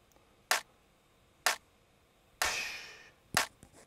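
Electronic clap sample in a music production session: three dry, sharp claps spaced about a second apart, then one clap with a long reverb tail washing out, followed by a final dry clap, all alone with no talking.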